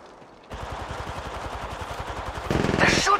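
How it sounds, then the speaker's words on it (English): Rapid automatic gunfire crackles through a video game shootout, with a dense stream of shots that gets louder and harsher near the end. "They're shooting at me."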